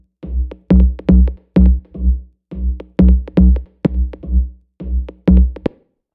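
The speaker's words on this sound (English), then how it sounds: "The first one is the bass, sounds like this." A synth bass line from an original track, produced in Ableton, pulses in short, evenly spaced rhythmic notes with brief gaps between them, clear and alone.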